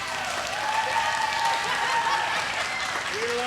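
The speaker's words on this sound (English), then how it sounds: "A crazy round of applause." An audience applauds at a guest artist demonstration, sustained even clapping throughout, moderately loud with a few faint voices mixed in.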